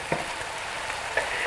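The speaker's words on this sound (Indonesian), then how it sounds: "Jadi kita tumis dulu ini bawangnya ini supaya mateng dulu ya" Shallots sautéing in a pan as the spice base for beef rendang, a soft steady sizzle with two quick spatula taps, close by and with no voices.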